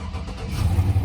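A GMC 2500 truck with a 6.0 engine turns over with the key, giving a close, low, rough churning that builds over about a second with no talking.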